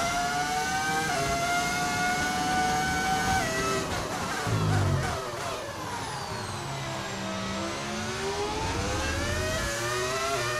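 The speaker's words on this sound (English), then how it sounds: "that's actually an audio mod. It's a V10 engine mod." V10 engine audio mod on an F1 race car in the F1 25 video game, a steady high-pitched engine whine that rises and falls with revs and gear shifts, continuous and fairly loud with no talking.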